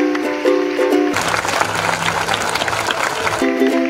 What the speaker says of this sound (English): The performers thought that the audience was actually giving them the applause, but it's actually for the dog.